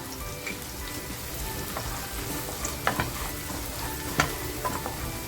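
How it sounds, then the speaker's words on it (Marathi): Curry leaves and onion fry in hot oil for a Malvani pomfret curry, a close crackling sizzle with scattered sharp pops and spatters over a constant hiss, no voices. "तेल बघा छान तापलेलं आहे कढीपत्ता टाकते अगोदर आणि कांदा टाकते"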